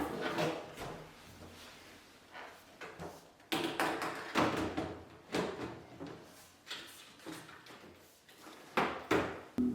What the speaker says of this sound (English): Reattach the cabinet door to the dishwasher by the fixing brackets at the bottom.